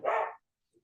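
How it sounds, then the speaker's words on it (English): A single short dog bark, fairly close, followed by a brief faint sound and then silence. "I just heard a dog."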